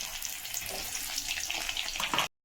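Panch phoron spices with garlic and bay leaf sizzling in hot oil in a pan, a close hissing crackle with soft popping, steady for about two seconds before cutting off abruptly.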